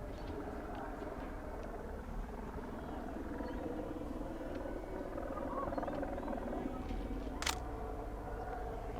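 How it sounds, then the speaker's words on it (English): A helicopter drones overhead, a steady low rumble that swells slightly midway, with a single sharp camera shutter click near the end. "Oh, that is the helicopter."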